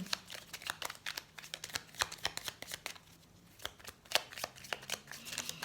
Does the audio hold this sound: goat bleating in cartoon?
no